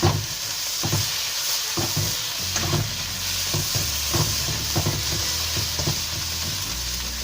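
Masala with crushed kasuri methi stirred and frying in a pan for a stuffed capsicum curry: a steady close sizzle throughout, broken by repeated scraping strokes of a spoon against the pan.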